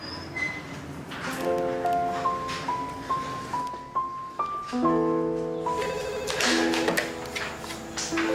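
A telephone rings while a call to a mother connects, a series of loud repeating melodic ringtone tones in bursts with short gaps, heard alone and close.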